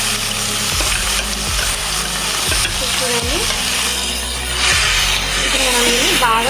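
Ridge gourd chutney is stirred in a sizzling pan, with loud, constant frying noise and repeated scraping strokes roughly once a second.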